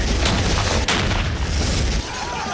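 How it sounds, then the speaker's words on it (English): A loud, close explosion with a heavy booming roar and crackling debris, rumbling on for a couple of seconds before cutting off. "Like exploding microwave."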